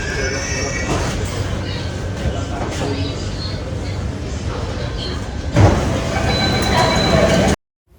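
Underground Mumbai Aqua Line 3 metro train heard from inside, with a steady loud rumble of running and a sharper burst near the end like doors or braking, with voices murmuring faintly underneath.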